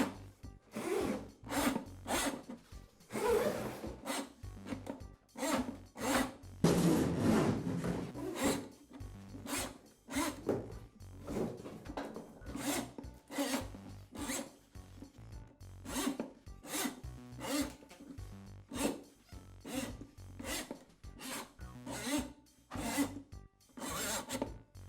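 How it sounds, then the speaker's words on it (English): A Ridgid drain auger cable is pulled into its drum in a series of scraping, rasping pulls with short gaps between them, close and fairly quiet, without any speech. "I'll place the rest of the cable down on the floor and then pull the cable into the drum."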